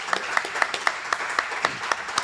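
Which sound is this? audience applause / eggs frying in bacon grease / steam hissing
audience applause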